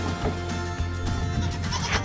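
A goat bleats repeatedly at close range, wavering cries over a low mechanical hum.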